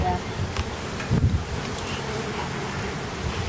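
A low, steady hum of many honeybees buzzing close by at a hive dusted with powdered sugar, with some wind noise and soft rustling mixed in.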